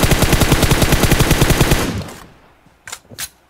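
A loud, close burst of automatic gunfire in a shooting video game hammers out in an even rapid rhythm for about two seconds, then fades, followed by two sharper single shots.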